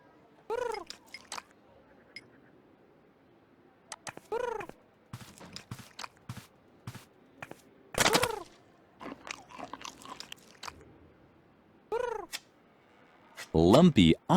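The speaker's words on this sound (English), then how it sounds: "Lumpy obviously enjoyed the pigeon-flavored cat food" A cat in the Edna and Harvey video game crunches and chews pigeon-flavored cat food in short, separate bursts, with brief meow-like calls between the bites, against a quiet game background.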